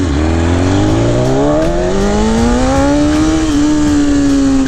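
A BMW S1000RR sport motorcycle accelerates hard, its engine pitch climbing steadily and loud with quick-shifter gear changes briefly dipping the rising whine, close and without talk.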